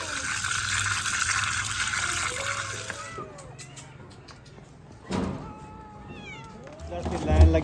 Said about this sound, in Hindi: इधर से लाइन लगी हुई है बिल्लियों की